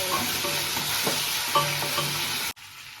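Onions frying with ginger garlic paste in a pan, a steady close sizzle with a few soft stirring scrapes, then a sudden cut to quiet near the end.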